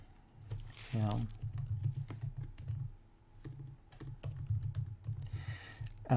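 Keyboard typing while filling in an email address on a website form, a run of quick, close key taps in bursts with pauses, over a low background hum and some brief talk.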